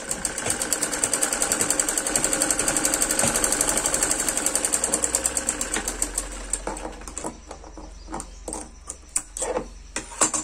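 A sewing machine stitches salwar fabric in a fast, steady mechanical rattle, then slows into separate spaced clunks as the stitching stops and starts.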